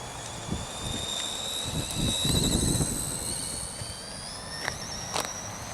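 A Tamiya CW01 RC car motor at full throttle, a thin high whine rising in pitch as it speeds up, heard outdoors at some distance with faint road noise and a few knocks.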